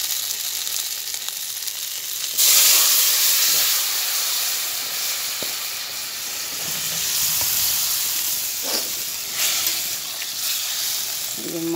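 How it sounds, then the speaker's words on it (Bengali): Fish curry broth is poured into a hot pan tempered with cumin and a chili, setting off a sudden loud hiss and sizzle that settles into a steady bubbling fry, with faint clinks. "এই যে ঝোলটা এবার এই যে ঢেলে দিচ্ছে"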